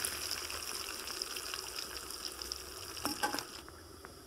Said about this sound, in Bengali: এবার পার্শে মাছটা ভেজে নিচ্ছি।